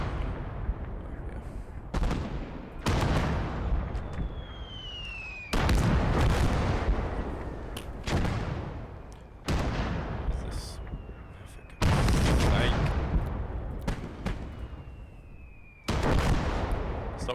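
Gunfire and artillery blasts in the WWII strategy game Call To Arms: Gates Of Hell, German Conquest campaign: loud, booming bursts recurring every couple of seconds, each decaying into rumble, with someone talking over the battle.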